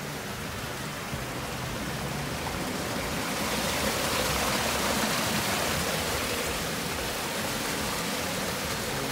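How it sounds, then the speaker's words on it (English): Water from a backyard water feature spills over rocks beside a barbecue area at a Las Vegas show home, a dense continuous rushing splash that stays steady and fairly loud with no voices. "The water drips over right to the rocks."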